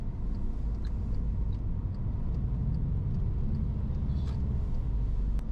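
A 2011-era VW Jetta GLI MK6 with a low-mileage engine idles with a rough, tractor-like clatter and a steady low rumble, continuous and close, with no voices over it.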